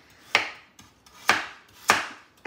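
A knife chops through carrot on a cutting board in a home kitchen while soup is being prepared, giving three sharp, crisp strikes at a steady, unhurried rhythm, close and clear, with no talking.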